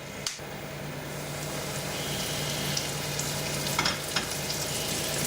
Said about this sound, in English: bring the frying pan up to heat again, and then we need to add in a couple more tablespoons of oil. Let that heat up.